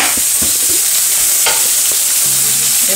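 Onions and chicken fry in a pan and are turned over, a loud, steady sizzle with soft scraping and shifting underneath, no voices.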